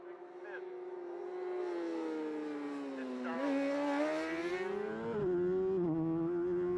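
Road racing motorcycles at the Kells Crossroads approach, with a loud, near engine note that drops in pitch through successive downshifts under braking, each change stepping the whine lower.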